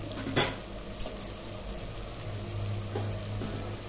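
Curry leaves and drumstick pieces frying in a pot for sambar give a steady, soft hiss with a couple of brief pops, and nobody speaks.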